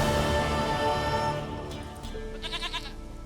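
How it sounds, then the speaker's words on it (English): A goat in The Witcher 3: Wild Hunt gives a wavering, nasal bleat near the end, following a loud stretch of tonal game music and ambience that fades down, with no talking. "Goat of mine, dearest,"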